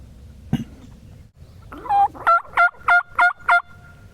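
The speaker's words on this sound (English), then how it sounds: "I listened to them gobble well before daylight and for a good while after daylight" Wild turkeys gobbling from the roost before daylight, a rapid run of about six loud, clear gobble notes after a single sharp call, with quiet woods between.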